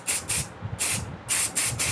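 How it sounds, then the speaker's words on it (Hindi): Hair spray from an aerosol can hisses out in five short, loud bursts with brief gaps, applied while setting a wavy hairstyle in a styling lesson. "हेयर स्प्रे का यूज़ करेंगे"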